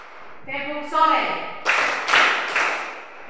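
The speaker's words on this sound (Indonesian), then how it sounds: "tepuk tangan 3 kali" A voice calls out in a teacher's classroom, then three crisp hand claps follow in steady rhythm, close and fairly loud.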